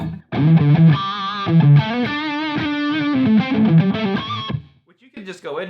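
A heavily distorted, thick electric guitar through an Eventide H9 effects pedal plays sustained chords and bends up close, loud and buzzy, ringing out before stopping abruptly.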